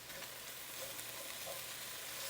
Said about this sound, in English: you just want to fry this bacon until it's nice and crisp